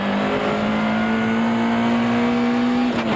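Zimbabwe's Billy Rothenbach drives his Toyota Celica GT rally car, number 2, in the 1992 Castrol Rally, its engine droning loudly and steadily close by with a sustained even tone and a slight rise near the end.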